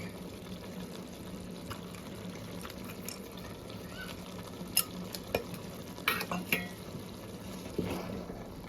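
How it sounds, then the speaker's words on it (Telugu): Fried dry fruits are stirred into foxtail millet upma in a pan, a steady soft scraping and sizzling texture with a few sharper clinks of the spoon near the end. "బాగా కలుపుకుందామండి"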